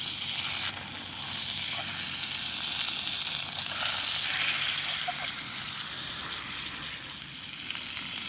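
A salmon fillet sizzles in a pan over a backcountry trail cooking fire after being flipped, giving a loud, steady frying hiss that runs without a break.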